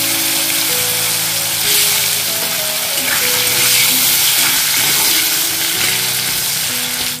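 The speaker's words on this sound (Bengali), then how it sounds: "এবারে ওই তেলের মধ্যে দিয়ে দিচ্ছি একটা কেটে রাখা আলু। আলুটা ফ্রাই করে নেব।" Cut potato pieces fry in hot oil with a loud, continuous crackling sizzle and occasional stirring scrapes, over steady tonal notes in the background.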